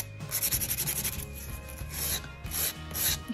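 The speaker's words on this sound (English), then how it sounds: "So I'll then come towards myself with the file." A nail file rasps back and forth across a polygel nail in close, quiet strokes, with a rhythmic burst of rubbing followed by shorter scraping passes.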